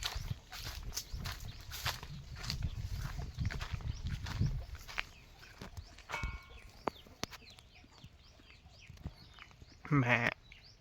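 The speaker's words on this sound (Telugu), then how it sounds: "మా అక్క వాళ్ళకైతే మంచి మేకలు కూడా ఉన్నాయి" Goats on a village farm, with a loud, wavering bleat close by near the end and scattered farmyard rustling and thuds before it.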